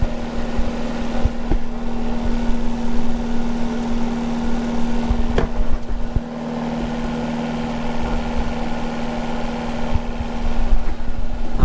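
A small electric motor runs at 9 volts with a steady, loud hum and whirring drone, rattling slightly with a brief dip partway through, without any voices.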